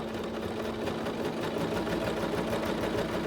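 A Singer SewMate 5400 sewing machine back stitches in a steady, close, continuous mechanical hum with a rapid rhythmic needle chatter, running alone without any talking.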